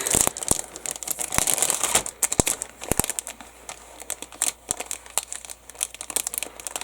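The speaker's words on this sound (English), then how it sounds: "I do like resealable bags, but sometimes they're sealed so well you can't find the opening" A plastic resealable bag holding parts of a 1/35 scale Ryefield M1240A1 M-ATV model kit crinkles and crackles as it is pulled open, with dense, close, irregular rustling and sharp snaps, louder at first.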